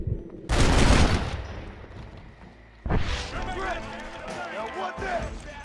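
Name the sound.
pistol gunshots in video game Red Dead Redemption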